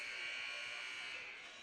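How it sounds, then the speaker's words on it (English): A basketball game buzzer sounds in a college men's gym, a loud, sustained electronic blare that holds steady for nearly two seconds before starting to fade. "And there's the buzzer."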